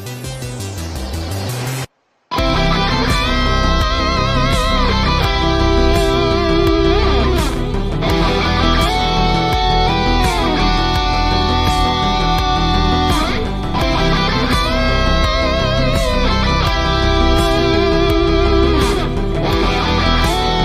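Electric guitar plays a melody over an MP3 backing track in a guitar lesson setting, dense and loud from start to finish after a brief silent gap near the beginning, with no talking.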